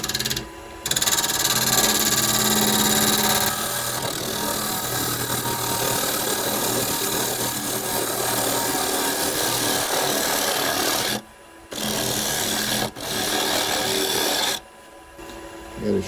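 Wood lathe cutting hard, dense kiawe wood at about 1100 RPM, a steady close rasping scrape of the tool on the spinning blank with brief pauses near the end.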